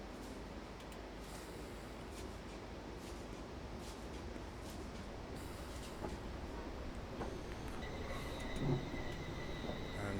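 A Class 444 electric train on the Portsmouth Direct Line rolls slowly into a platform under braking, a continuous low rumble and rail noise inside the cab with faint tones rising toward the end.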